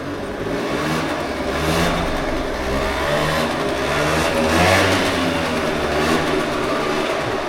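Motorcycle engine revving as it is parked: a close, throbbing mid-pitched engine note that rises and falls through several rev swells over about seven seconds, loud and continuous.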